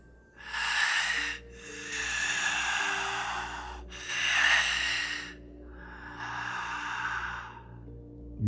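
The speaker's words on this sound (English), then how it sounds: "Deep, heavy, raspy breathing. It came in long draws in and out." Four long, heavy, raspy breaths drawn in and out slowly over a phone line, close and hoarse, with a low steady hum beneath and no talking.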